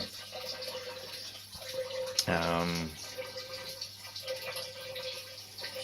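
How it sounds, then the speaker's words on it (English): Water runs briefly from a tap during home beer brewing, a short loud gush and trickle rising in the middle, with quieter background hum and faint speech-like sounds around it. "And while the water's flowing, there we go."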